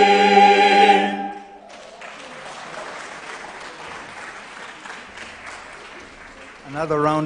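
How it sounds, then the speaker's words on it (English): Concert audience at an anthems-of-the-world choral performance breaks into moderate applause right after sung music stops, clapping continuing evenly for several seconds before a voice returns at the end. "Another round of applause, please, as we finish the Asian wing"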